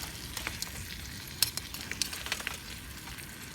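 Spam sizzling and frying in a pan too small for the amount of food, cooked outdoors at a woodland tarp shelter, a steady soft crackle with scattered small pops and faint clinks throughout.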